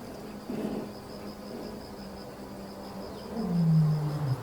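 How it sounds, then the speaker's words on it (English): A lion roars on open grassland, a low, moaning call that builds toward the end over a steady background hiss, moderately distant and alone without talk. "A lion's roar carries up to 5 miles across the open grasslands"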